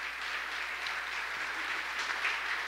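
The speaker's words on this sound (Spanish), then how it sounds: "dale un fuerte aplauso al Señor." A church congregation applauding the Lord during a sermon, a soft steady wash of many hands clapping in a large room, moderately distant, with a low hum underneath.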